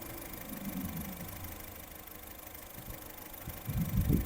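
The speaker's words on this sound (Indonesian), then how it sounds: "Mobil masih halus suara mesinnya." A 2019 Honda Mobilio E CVT engine idles steadily at low volume, a smooth continuous hum with a few slightly louder low thumps near the end.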